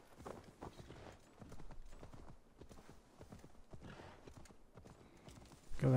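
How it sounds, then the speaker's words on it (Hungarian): A horse gallops in Assassin's Creed Valhalla, its rapid hoofbeats a continuous close rhythm for the whole stretch, ending in a louder burst. "Hívunk egy lovat, mert úgy gyorsabb lesz."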